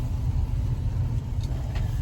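A pace car's engine rumbles low and steady close by as the car is driven slowly to be parked, with no speech.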